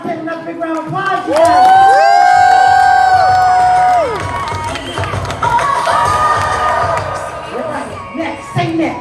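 An audience at a sales recognition event cheers and whoops loudly, with shouts and a bright tonal sweep riding over the crowd noise, while a voice talks through it.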